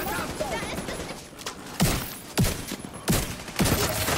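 Gunfire in the video game Division 2: several sharp, loud shots crack out in a broken rhythm during the second half, with game ambience running underneath.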